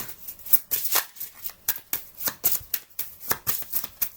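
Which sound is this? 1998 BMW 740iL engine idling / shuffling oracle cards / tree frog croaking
shuffling oracle cards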